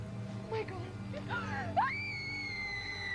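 A woman screams in a horror TV episode about the Hook Man legend, with a short cry that rises into a long sustained high scream, heard faintly under steady background hum alongside brief speech.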